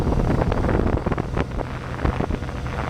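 A 2006 Tracker Marine Tahoe Q4 boat runs on the water during a sea trial, with a loud rushing wash of wind and water, buffeting bursts against the microphone and the motor blended underneath.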